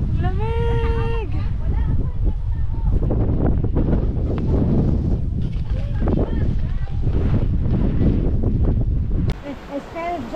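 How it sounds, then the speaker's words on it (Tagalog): Strong wind on Lamma Island buffets the microphone in a steady low roar, with voices talking and calling out over it throughout. "Ang hangin!"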